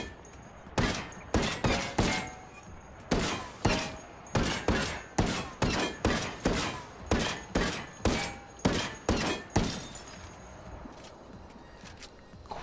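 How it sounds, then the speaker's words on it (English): Rapid series of G28 sniper rifle shots fired at the front of a Hummer in Ghost Recon Wildlands, around twenty loud sharp cracks in a steady rhythm with brief pauses, each shot close and punchy with a short decay. "Let's see how many shots it takes to take down this Hummer from the front."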